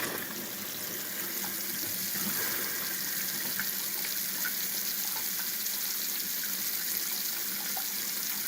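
A bathroom sink tap runs with a steady, close rush of water that holds at an even level throughout, with no talking.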